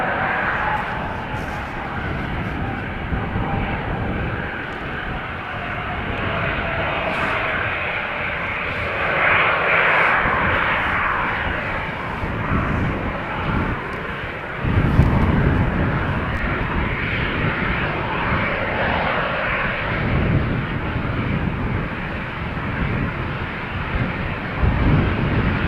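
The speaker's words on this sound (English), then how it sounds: "taxi ahead, enter the runway over here, depart right in front of us" Airliner departing runway 36L at Amsterdam Schiphol, a sustained broad jet engine roar that swells around the middle and stays loud with wind-buffeted rumble throughout, heard from a spotting position near the runway.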